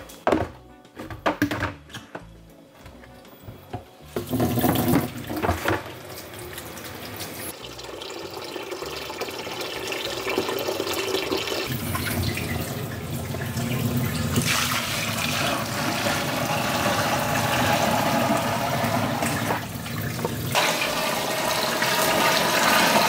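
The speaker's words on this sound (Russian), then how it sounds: "Теперь просто заливаем 20 литрами горячей воды" Hot water gushes loudly into a barrel of 7-8 kg of wheat for moonshine mash, a steady rushing pour after a few knocks and thunks at the start.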